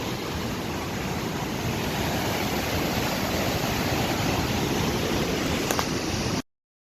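Waterfall at Cascade Falls on the Willow River, a steady broadband rush of falling water that fills the whole clip evenly and loudly before cutting off abruptly near the end, with no talking.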